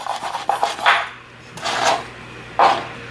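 A spatula scrapes and saws through a calzone on a plate in three separate bursts of rasping, grating friction at close range, with short quiet gaps between them.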